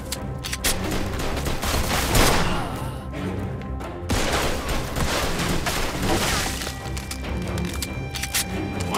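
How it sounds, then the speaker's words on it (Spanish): Dense gunfire from above in Mafia II, rapid overlapping shots and bursts crackling loudly throughout, with a short dip midway before the volley resumes. "¡Disparan desde arriba!"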